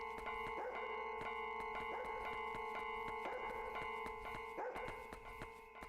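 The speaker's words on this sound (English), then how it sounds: "Hey, I heard Poro barking." Poro the dog barks in Yomawari, a few muffled barks repeating in a steady pattern over a constant droning ambient tone and soft rhythmic ticks.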